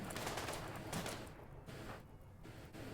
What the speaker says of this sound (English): You fire against Noodles